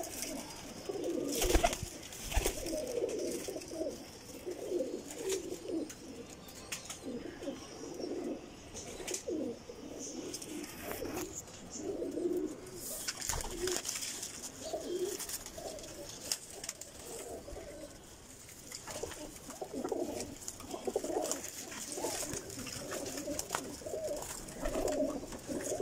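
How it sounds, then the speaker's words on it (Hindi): Highflyer pigeons, a flock of about 45 on a rooftop in Lahore, coo softly and repeatedly in low, throaty rolls, several birds overlapping against a faint outdoor background. "45 कबूतर हैं टोटल, ये सारे छत के उड़े हैं।"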